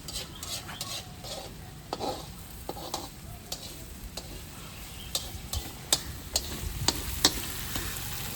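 Poha cooking in a pan while a utensil stirs it, giving a soft continuous sizzle broken by sharp clicks and scrapes of the spoon against the pan that grow more frequent toward the end.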